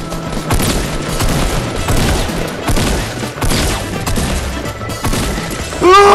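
Pump shotgun fire and other weapons in a Fortnite Battle Royale solo match, dense loud bursts of shots and crashing impacts packed close together, ending with a brief rising electronic game effect.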